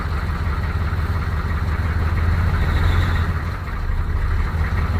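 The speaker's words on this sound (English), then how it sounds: "give it a little rev" A square body truck engine runs with a steady rumbling idle that swells briefly as it is revved, then dips and settles back, heard close and loud with no talk.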